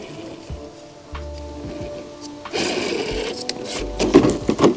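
The slow electric motor of an Axial SCX10 III Jeep JLU RC crawler whirs in short bursts, stopping and starting, close by, with soft scraping and knocks from the truck moving between the whines.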